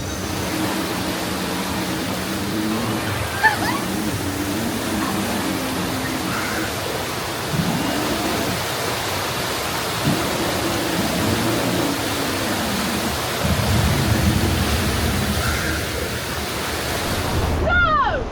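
Rushing water churns around a boat on the Calico River Rapids ride at Knott's Berry Farm, a steady broad roar with occasional splashes and surges, while people talk over it.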